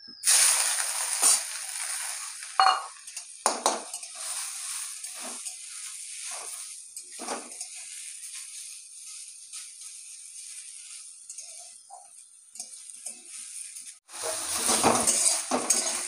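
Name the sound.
frying drumstick leaves with chillies in a pan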